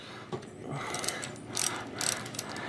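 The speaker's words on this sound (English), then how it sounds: "First, you want to go ahead and loosen this nut over here." A nut is loosened on the crank of a vintage bicycle with a ratchet wrench, producing bursts of quick, close mechanical clicking in several runs, with no one speaking.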